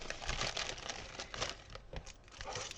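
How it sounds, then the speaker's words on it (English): Bits of rubbish stuffed into a plastic bag during diamond painting cleanup, a close, dense crinkling and rustling that rises and falls continuously with no voices. "So sorry for the crinkling"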